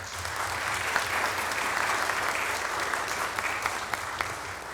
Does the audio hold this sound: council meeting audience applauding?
yes